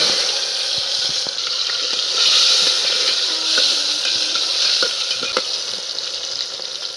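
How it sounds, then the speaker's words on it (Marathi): Cumin and mustard seeds sizzle in hot oil at the start of masale bhat, a loud, close, continuous frying hiss with scattered sharp pops and crackles and no speech. "आता जिरी मोहरी टाकून घेतली"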